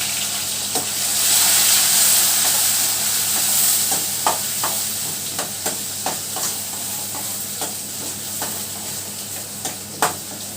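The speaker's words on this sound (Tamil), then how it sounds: "எண்ணெயில் வெங்காயம் நல்லா ஃப்ரை ஆகையில் டேஸ்ட்டு செம்மையாக இருக்கும்." Small shallots chopped into tiny pieces sizzle steadily in hot sesame oil for a Chettinad-style fish curry, with a loud, continuous frying hiss broken by regular scraping knocks from stirring.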